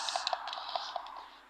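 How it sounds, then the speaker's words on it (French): Rapid button pressing while playing FIFA 12 on the PPSSPP emulator, a quick run of light clicks and taps, close and soft, with no talking. "j'appuie sur la touche aussi rapidement que je peux"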